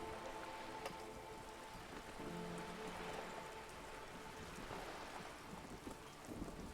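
Steady rain falls in the Disco Elysium video game, a dense hiss of drops with faint distant rumbles underneath, quiet and continuous with no speech.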